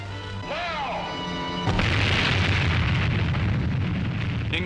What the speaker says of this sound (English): The explosion had a beauty that cannot be described